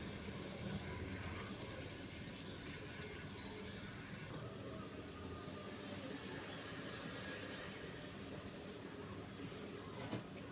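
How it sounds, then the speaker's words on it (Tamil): A mixer grinder grinding coconut runs steadily for the whole stretch, a loud, even whirring and grinding roar with no pauses. "அதுக்குள்ளே நம்ம தேங்காய் மிக்ஸில் போட்டுக்கலாங்க"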